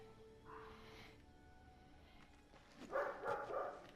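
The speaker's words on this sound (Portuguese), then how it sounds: "o problema é esses cachorros imundos do caralho que não param de latir" Dogs barking in Darksiders II: a faint, muffled bark early on, then a short cluster of several barks near the end, distant and soft over a quiet background.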